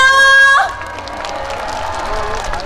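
A brief held musical note gives way to a crowd clapping and cheering at the opening ceremony of the 2024 Chuncheon Makguksu Dakgalbi Festival, moderate and a little scattered, with voices mixed in.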